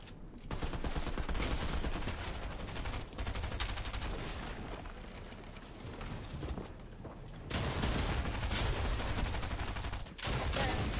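Rapid bursts of video game gunfire fill most of the stretch, loud and dense with brief gaps between volleys, like automatic weapons firing in a late-night shooter match.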